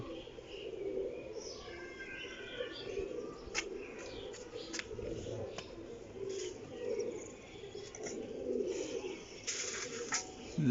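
Soft pigeon cooing carries at a distance over a low outdoor hum, with intermittent calls and faint chirps across the span.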